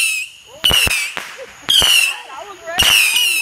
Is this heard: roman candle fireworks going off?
yes